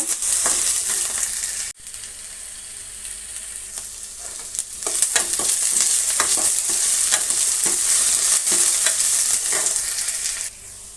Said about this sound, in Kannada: ಅದನ್ನು ಕೂಡ ಫ್ರೈ ಮಾಡೋಣ ಎರಡು ನಿಮಿಷ ಫ್ರೈ ಆಗಲಿ